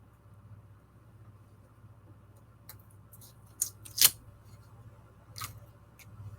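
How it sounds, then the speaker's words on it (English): Tape is snipped and pressed onto a cardboard tissue box in a few sharp, isolated cuts and clicks over a steady low hum, close and otherwise quiet. "We are going to come along and put some tape on it."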